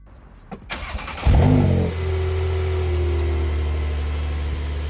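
A Porsche 911 Carrera engine turns over and catches at about one second, with a loud rev, then settles into a steady, close low rumble.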